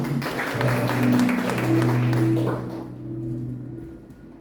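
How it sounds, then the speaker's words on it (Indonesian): A church congregation claps together, a full burst of applause under a sustained musical tone that tapers off after about two and a half seconds. "Tepuk tangan bagi Tuhan."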